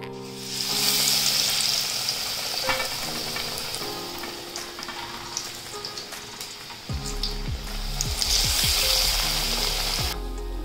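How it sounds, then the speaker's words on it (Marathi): Bread slices dipped in besan (gram flour) batter fry in hot oil with a continuous loud sizzle and crackle, briefly settling and then rising again as more pieces go in. "आता आपण ब्रेड डीप करून बेसन मध्ये फ्राय करून घेऊया"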